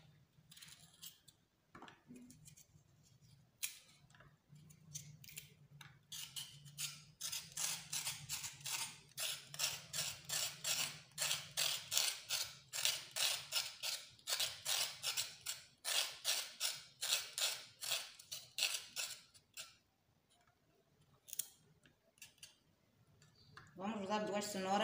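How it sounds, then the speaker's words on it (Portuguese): A vegetable peeler scraping carrots for an apple, mango and carrot juice, a long run of rapid rhythmic rasping strokes, close and steady, with quiet gaps before and after. "Depois vamos descascar a cenoura."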